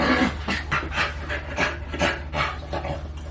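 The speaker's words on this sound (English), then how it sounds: "that's my dog, you guys." A dog pants rapidly and steadily up close, quick rhythmic breaths repeating across the whole moment with no talking.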